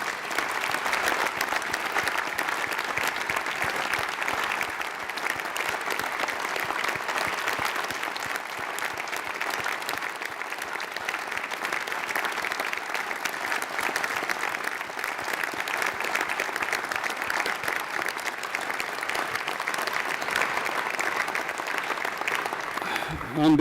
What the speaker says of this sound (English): may I just take the liberty of asking the parents, the brothers and sisters, the relatives of the graduates to please stand and acknowledge our applause